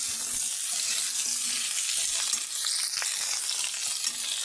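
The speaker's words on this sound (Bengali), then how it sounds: "এবার ওর মধ্যে ডাটাগুলো দেব ডাটাটা দিয়ে আমি বেশিক্ষণ ভাজবো না" Drumstick stalks fry with potatoes in a pan, giving off a loud, steady sizzle that continues unbroken throughout, with faint stirring beneath it and no voices.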